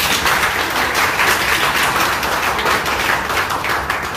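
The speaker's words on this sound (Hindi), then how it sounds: "तो मैं चाहता हूँ कि उनके लिए आप ताली दें।" Audience applause at a beauty parlour training seminar, dense clapping from many hands that is loud and close and continues steadily throughout.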